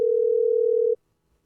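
A telephone rings on the line for a call-in radio guest as a single steady, loud electronic tone lasting about a second, then cuts off to near silence.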